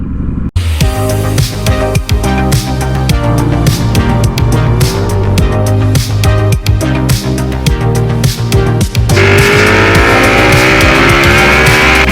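Loud, close engine roar of a Ducati Panigale V4 Speciale motorcycle being ridden, with revs climbing through repeated gear changes and shifting pitch, then a sustained high drone at the end.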